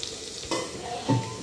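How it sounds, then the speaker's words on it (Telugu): Onions and green chilies fry in a pan with a soft sizzle, punctuated by a couple of quick scraping stirs, close and fairly quiet. "ఇదండి ఉల్లిగడ్డలు, పచ్చిమిరపకాయలు వేగుతున్నాయి కదా."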